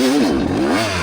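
Kawasaki KX250 two-stroke dirt bike, still running strong after 25 years, firing from a dead-engine start and revving hard, a loud, close, raspy engine note that rises and dips briefly.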